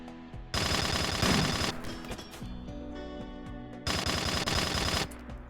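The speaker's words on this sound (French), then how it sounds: "faut toujours leur tirer dessus" Automatic gunfire from a RimWorld colony battle comes in two dense, rapid bursts with a busier stretch of mechanical clatter between them, fairly loud and with no voices.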